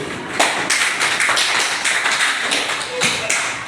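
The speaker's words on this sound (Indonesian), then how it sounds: "Tepuk tangan dulu." Students in a classroom clap their hands in a quick burst of overlapping claps. The sound is close and fairly loud, with a few louder hits near the end.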